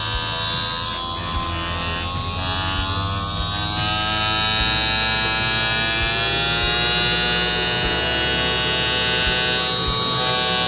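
An RS-540 6V Johnson 62850 DC motor on a speed controller whines with a steady, loud electric buzz, its pitch creeping upward as it spins faster, with faint rhythmic ticks underneath.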